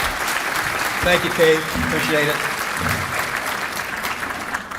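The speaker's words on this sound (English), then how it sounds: "Give Bon Secours another round of applause" Audience applause at the Suffolk, Virginia 2022 State of the City event, a steady wash of clapping throughout, with someone speaking briefly over it partway through.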